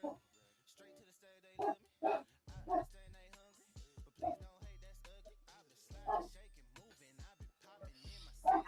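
A dog barks several times in short bursts, fairly near, amid people chatting casually during a neighborhood football watch party.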